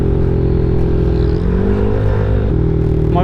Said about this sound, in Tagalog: Sabi ko sa inyo eh, traffic dito eh.